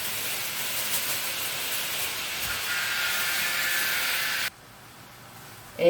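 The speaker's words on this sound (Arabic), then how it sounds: "هشوحها بس شويه مع اللحمه اهي كده قبل ما احط الطماطم" Okra sautéing with lamb meat in a pot, a steady hissing sizzle that holds for several seconds before dropping away to near quiet.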